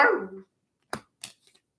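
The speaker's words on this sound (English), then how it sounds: "He's probably barking at the neighbors." A dog gives one loud bark with a falling whine, followed by a few softer, shorter yips and thuds, with no talking.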